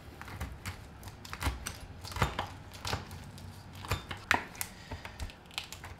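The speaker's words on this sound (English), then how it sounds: "And you just want to chop these chilies right up." A knife chops dried chilies on a cutting board in quick, steady, close taps that continue evenly throughout, with no voices.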